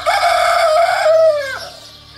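A rooster crows at dawn on a rural farmstead, one long, loud, close cock-a-doodle-doo that rises and trails off, heard alone.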